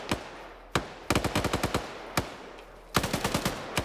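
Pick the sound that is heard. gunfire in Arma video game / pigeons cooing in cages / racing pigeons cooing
gunfire in Arma video game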